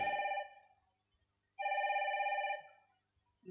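Telephone bell ringing in two bursts, the first fading out and a longer ring after a pause of about a second, clear and fairly close with no talk over it.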